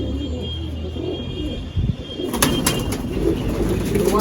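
A female pigeon coos in low, rolling calls, joined partway through by a burst of wing flapping or rustling, close and fairly loud.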